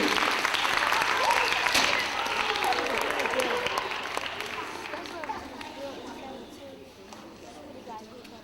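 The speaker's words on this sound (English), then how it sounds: "So why don't we give Mrs. Carmen Maria del Carmen Miranda a big round of applause." An audience at a school presentation applauds a healthcare guest, a full burst of clapping that gradually thins and fades over several seconds, with faint talk underneath.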